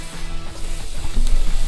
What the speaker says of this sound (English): Listen to the sizzle, guys.